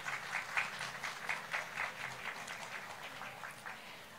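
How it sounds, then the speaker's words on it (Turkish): Applause from an audience at a Bursa silk festival honouring a woman on stage, a quiet, steady patter of many hands clapping at a distance for about four seconds, with no voices over it. "büyük alkış istiyorum kendisinden"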